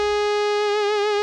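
A Vintage Classic synth lead from the Logic ES1 synth holds one steady, bright harmonic-rich tone for about a second, gaining a gentle vibrato wobble partway through, alone and clean.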